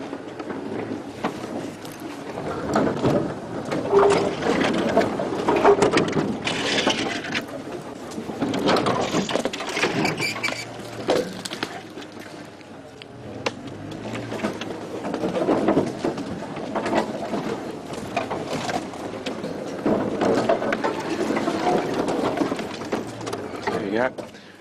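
A safari vehicle rumbles along steadily through bush while branches and brush scrape and rustle against it, with a voice talking over the noise throughout.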